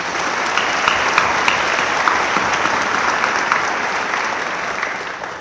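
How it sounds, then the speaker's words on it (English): Sustained round of applause for the Rhodes State College trustees at a 2019 college graduation ceremony, a dense steady crowd clapping throughout with no talk. "please join me with a round of applause for the Rhodes State College trustees"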